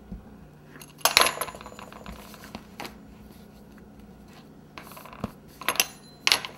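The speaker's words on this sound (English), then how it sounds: "just take your pizza cutter and just cut all the way around the edge" A pizza cutter rolls around the edge of fondant for a cake topper, giving short scraping and clicking bursts near 1 s, 2.8 s, 5 s and 6.4 s over a quiet, close background.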